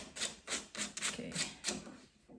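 Rhythmic rasping strokes of sanding or filing smoothing the wooden miter cuts on oversized trim for a portable TV stand, about eight back-and-forth rubs close up with no talking.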